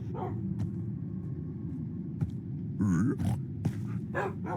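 Several short, sharp dog barks and yips from the game Minecraft ring out over a constant synthetic background hum, with a brief whimpering pitch sweep midway.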